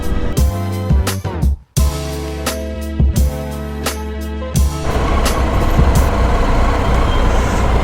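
Congested road traffic with heavy trucks and buses idling nearby, a low engine rumble running throughout, several sharp air-brake hisses and knocks in the first few seconds, then steady loud traffic noise.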